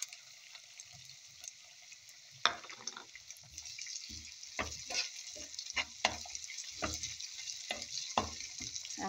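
Egg yolk and rice frying in a pan, soft sizzling under scattered scrapes and clatters of stirring, quiet at first and then busier with irregular knocks and crackles, close up and without talking.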